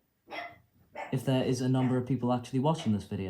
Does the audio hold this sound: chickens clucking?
no